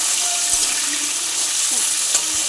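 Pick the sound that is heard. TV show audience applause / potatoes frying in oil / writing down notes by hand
potatoes frying in oil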